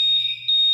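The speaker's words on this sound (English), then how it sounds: "fire alarms going off here again." A fire alarm goes off, a loud, steady, piercing electronic tone held for under a second, dipping briefly partway through, with no talking.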